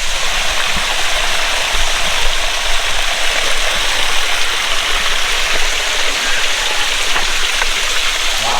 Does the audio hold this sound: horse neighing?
no